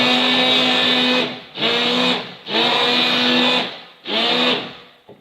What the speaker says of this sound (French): je vais utiliser le mixeur